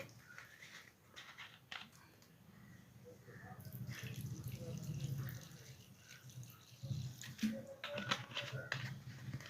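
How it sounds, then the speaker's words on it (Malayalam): Petrol pours into the fuel tank of a Royal Enfield motorcycle in a steady, moderately close liquid trickle and splash that swells and fades over several seconds, with occasional light clinks and no talk. "അതിന് ശേഷം ഇതിനകത്ത് പെട്രോൾ ഒഴിച്ചു കൊടുക്കുക."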